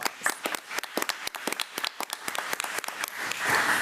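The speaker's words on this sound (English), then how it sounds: "So let's give Mr. Ricky Haynes another round of applause." A school committee meeting audience applauds, dense overlapping claps sustained across the whole stretch and swelling louder toward the end, with no speech over it.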